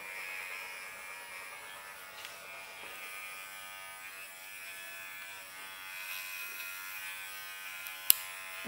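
An electric clipper hums steadily and faintly through a Bouvier des Flandres dog's coat during show-ring grooming, a thin continuous buzz with one sharp click near the end and no voices.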